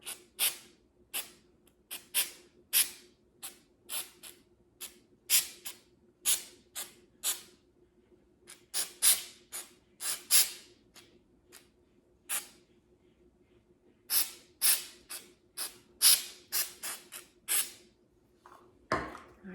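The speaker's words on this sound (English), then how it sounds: "so I'm just going to spray a little bit on here" Repeated short bursts of an aerosol snow spray can, each a hissing puff, dozens in a steady irregular rhythm, close up with no talking.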